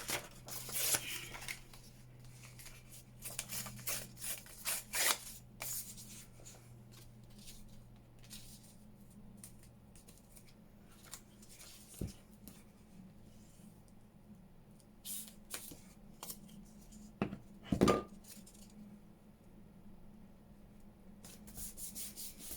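Paper being torn by hand for a junk journal, a series of short close rips and rustles with pauses between them, fairly quiet.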